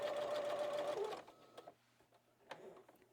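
A sewing machine stitches a fabric gift tag, running in a steady continuous whir for about a second before stopping, followed by a few faint clicks and handling sounds.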